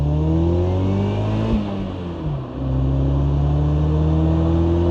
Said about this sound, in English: Watch how long I can go full throttle in this slow car.